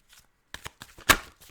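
Tarot cards shuffle in quick bursts, soft riffles and slaps close by, building to one louder snap near the end, with no voices.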